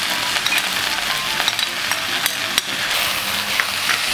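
Chicken and garlic stir-fried for a tofu chicken oyster-sauce dish, a loud, close, continuous sizzle broken by scraping stirs and sharp clacks of a utensil against the pan.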